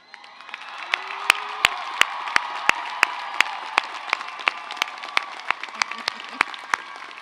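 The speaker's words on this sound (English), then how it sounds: "would you please cheer and stand if you are able?" Graduates at the 2023 CSUN commencement for the College of Health & Human Development cheer and applaud in a large hall, with a broad crowd roar and sharp individual claps standing out near the microphone.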